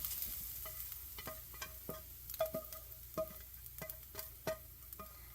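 Pepperoni browns in a pan like bacon, with a steady faint sizzle broken by repeated close clicks and taps of a utensil stirring and scraping, with no voices.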